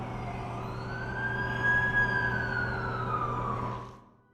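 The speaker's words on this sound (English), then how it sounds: "That's the ambulance I called." An ambulance siren from the video game The Amazing Spider-Man 2 wails in one long rising and falling sweep, growing louder as it approaches, then cutting off abruptly.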